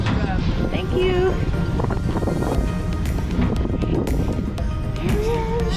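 Strong wind buffets the microphone on the outdoor deck of the Discovery Princess cruise ship along the California coast, a constant rough roar under people talking nearby.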